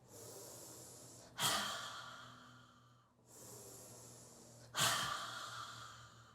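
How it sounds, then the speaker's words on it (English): Two strong, breathy exhalations during a morning breathing exercise, each a sudden forceful rush of air that tails off slowly, separated by quieter inhales; close and clear with a faint steady hum underneath and no talking. "Inhale, and a inhale, and fountain breath out"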